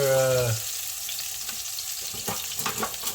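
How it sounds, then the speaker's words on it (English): Butter melting and sizzling in a pan, a steady soft crackle with scattered pops, close by, after a brief tonal sound at the start. "While the butter's melting up, getting ready for"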